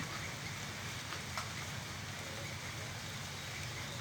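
Rain falling outdoors as a steady, even hiss with soft patter, fairly faint and continuous, with no talk.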